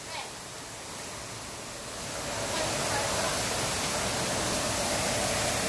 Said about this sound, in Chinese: 上面还有个水桶倒下来了，水桶水桶倒水了